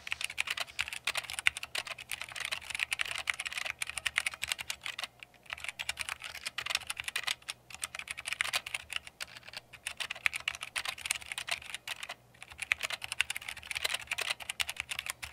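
Continuous clicky typing on a mechanical keyboard with tactile switches such as Cherry MX Browns, a dense close-up patter of keystrokes with brief pauses and no talking.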